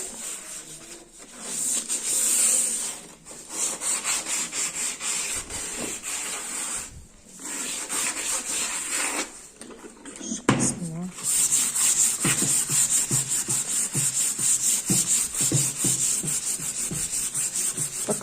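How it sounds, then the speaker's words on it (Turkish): Steady rasping scrubs of sandpaper on a wooden cupboard, continuous with brief pauses, close and fairly loud, with occasional faint voice underneath. "bu şekilde zımparalıyorum"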